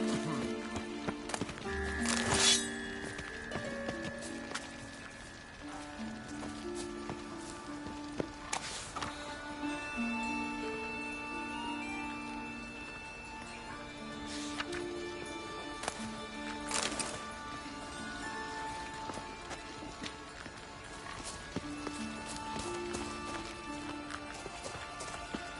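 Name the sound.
horse hooves galloping in The Witcher 3 video game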